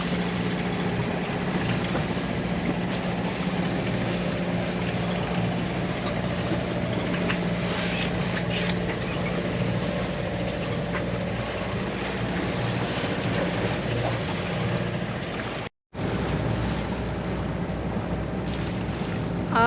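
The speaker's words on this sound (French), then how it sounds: "On a le vent de face et un peu de houle." Steady broadband wind rush with low rumbling engine and water wash, a boat moving through a light swell into a headwind off Spain's eastern coast; a brief dropout near the end.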